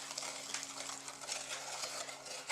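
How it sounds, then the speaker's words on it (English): A spoon stirs pecans through a sugar mixture in a pot, giving faint, repeated scraping and gritty swishing strokes close by. "Get my stir thingy and stir this around."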